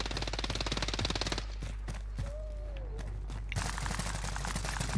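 Rapid automatic gunfire from Call of Duty Warzone in Verdansk rattles loudly and densely, breaks off briefly for a quieter stretch, then starts again, with no talk.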